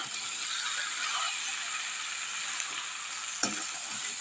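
Chopped vegetables and spices for a plum (kul) pickle sauté in a pan over low heat without water, giving a steady soft sizzle throughout, with one brief clink of a utensil near the end.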